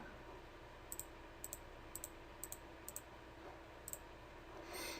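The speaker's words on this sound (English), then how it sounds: "So if I do some clicking here," Mouse clicks made while playing the browser game Wartune, coming in quick paired bursts of two at a steady pace, crisp and close against a constant background hiss with no talking.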